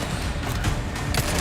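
Rapid gunfire from the video game Resident Evil 4, a dense burst of shots running continuously at steady loudness with no talk over it.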